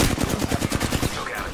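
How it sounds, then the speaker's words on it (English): Rapid automatic gunfire in Apex Legends, a steady burst of evenly spaced loud shots close by that tails off into a fading echo. "Getting shot. Being shot at."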